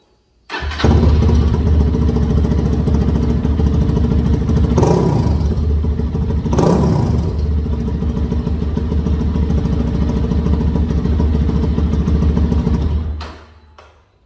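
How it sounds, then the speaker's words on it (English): A Lifan KPM200 motorcycle with the exhaust baffle installed starts and idles loudly with a throaty exhaust, blipped into two sharp revs early on, then settles into a steady rumble before shutting off. "I'll show you a quick exhaust video with the baffle put in"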